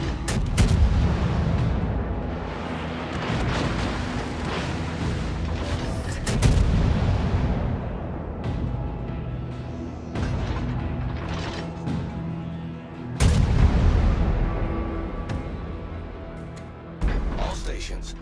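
Naval cannon fire booms repeatedly from warships in a naval battle video game, heavy low blasts arriving in bursts over a continuous rumble, with a radio-style voice speaking over the gunfire.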